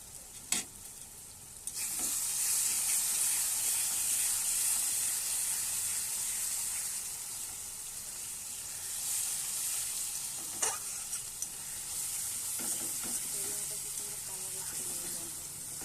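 Turmeric, Kashmiri chilli powder and sugar sizzle steadily in hot oil in a pan while being stirred, a continuous close frying hiss broken by a few sharp spoon clinks against the pan.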